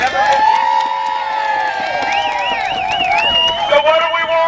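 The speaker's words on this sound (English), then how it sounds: "Let's give him a round of applause." A rally crowd cheers and whoops loudly, with shouts rising over one another, in support of keeping Peninsula Hospital open; the cheering is close and sustained throughout.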